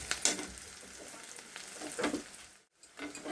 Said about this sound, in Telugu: ఇవి మంచిగా ఫ్రై కావాలా, అంటే కొంచెం మీడియం ఫ్లేమ్ మీద ఫ్రై చేయండి.